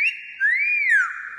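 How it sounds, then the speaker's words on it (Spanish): A parrot gives a single clear whistle, close and alone, that swoops down, rises and falls again. "Un silbito a tus fans. Silba."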